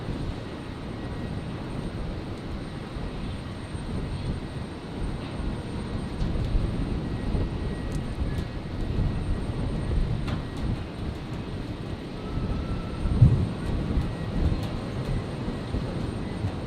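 An Air New Zealand A320neo jet rolls for takeoff on runway 01 right at Brisbane International Airport on a stormy night, a broad, steady low engine roar holding at a distance with slight swells and faint crackles.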